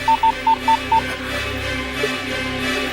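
Five short, even telephone keypad tones beep in quick succession, followed by a quiet low background hum.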